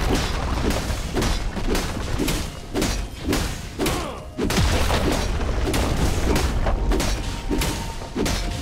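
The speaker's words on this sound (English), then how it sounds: "Team's turret has been destroyed." Turret destruction in a League of Legends match: a dense barrage of heavy thuds, booms and blasts repeating roughly every half second, loud and close, with a big impact surge midway through.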